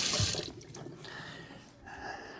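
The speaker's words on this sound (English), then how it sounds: "let me wash my hands real quick" Running tap water splashes into a sink as hands are washed in a kitchen, with a brief gush at the start settling into a steady, moderately close stream with light splattering.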